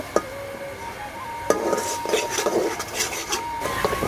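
Spice paste for a Katla fish and bottle gourd curry frying in a pan while a spoon stirs and scrapes it, with sharp metal clinks near the start and a soft, uneven scraping and faint sizzle throughout.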